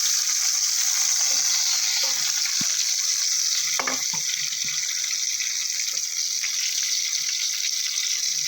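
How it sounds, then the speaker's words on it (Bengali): Eggplant slices fry in a pan of hot oil, a steady close sizzle running throughout with a few scraping stirs and faint clinks, no talking. "আগে প্রথমে বেগুনগুলো আমি ভেজে নিচ্ছি।"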